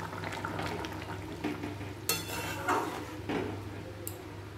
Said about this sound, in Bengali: দিয়ে ভালো করে আবার নাড়িয়ে নিলাম